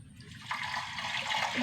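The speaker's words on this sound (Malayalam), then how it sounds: "ഇതിലേക്ക് ഉരുക്കി വെച്ച ശർക്കര ഒഴിച്ചു കൊടുക്കട്ടോ." Melted jaggery syrup pours in a steady, continuous liquid stream, close and moderately loud, with a watery splashing rush and no talking.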